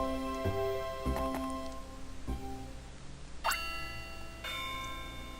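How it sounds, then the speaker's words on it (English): Recess bell in the Pokemon Ranger: Shadows of Almia game, a series of soft electronic chime tones sounding one after another in a gentle melodic pattern, with sustained tonal notes and no talking. "So now the bell rings"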